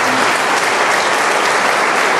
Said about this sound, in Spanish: para las que pido un aplauso